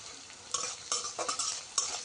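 Prawns frying with onions in a pan, a steady close sizzle broken by several sharp stirring scrapes at uneven intervals, with no talking.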